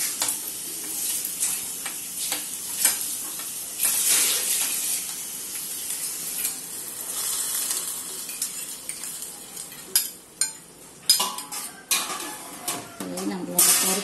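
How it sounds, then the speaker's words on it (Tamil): Small vegetables stir-fried in a pan in a home kitchen, a bright steady sizzle broken by repeated metal spatula scrapes and clanks against the pan that grow sharper toward the end, close and fairly loud. "அதால் நான் ரெண்டு ரெண்டு முறையாக வறுத்து"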